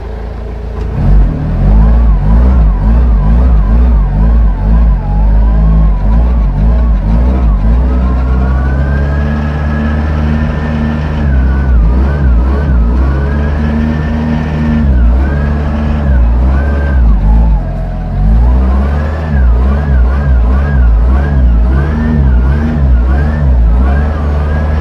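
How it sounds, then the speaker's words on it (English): Forklifts doing donuts in fresh snow, engines droning loudly and steadily close by, with the pitch repeatedly climbing and dropping as they rev and spin. "here's a video about some forklifts doing donuts the other day in the nice fresh snow we had"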